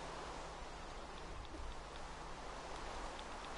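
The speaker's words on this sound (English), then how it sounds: "Yeah, it's raining." Rain falling in Minecraft, a steady soft hiss of drops with no talk, faint and even throughout.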